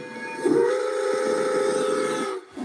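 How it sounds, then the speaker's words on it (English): Steam train whistle sounding as the train approaches, a single sustained loud blast with hiss underneath, lasting about two seconds before cutting off. "I can hear this train coming round the bend, ladies and gentlemen."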